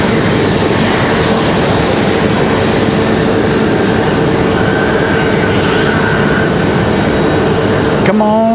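A Republic airliner departing Raleigh-Durham airport: a sustained, loud jet roar with faint tonal whines holding steady, then a sharp click and a brief rising whistle-like tone at the very end, no clear speech.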